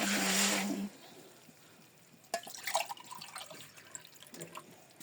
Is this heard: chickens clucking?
no